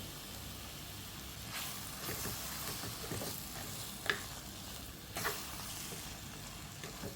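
Ground tomato and onion paste sizzling in a pan for prawn curry, a steady, fairly quiet frying hiss broken by a few scraping stirs.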